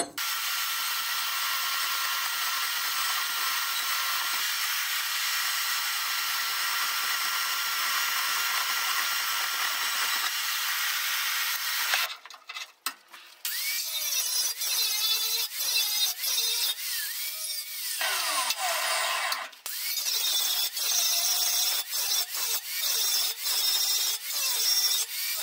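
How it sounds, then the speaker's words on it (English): Angle grinder scouring mill scale off steel pieces for a round pipe rail lift installation, a steady loud abrasive whine running continuously, briefly interrupted midway and then resuming with scraping variations. "just have to clean these up a little bit with a grinder, get rid of that mill scale"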